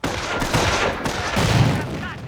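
Gunfire and a grenade against a machine gun team in the strategy game Company of Heroes, with dense crackling rifle fire and bursts of shooting all the way through.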